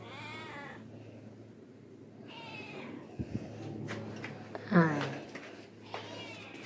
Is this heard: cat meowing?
yes